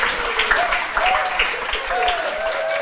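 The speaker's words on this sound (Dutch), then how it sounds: "Ik vind het wel een applaus waard." Applause from a studio audience on a local political talk show, a dense steady patter of clapping hands lasting a few seconds, with a voice faintly audible underneath.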